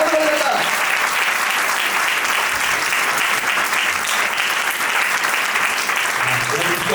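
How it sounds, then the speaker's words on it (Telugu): A church congregation at Sunday worship claps together in a dense, steady burst that lasts throughout, loud and close, with a voice faintly heard at the start. "అందరూ ఒకసారి చప్పట్లు కొట్టండి."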